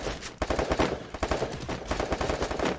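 Rapid bursts of automatic gunfire fill the scene in the battle royale game Garena Free Fire, loud, dense and continuous, with shots rattling in quick rhythmic succession.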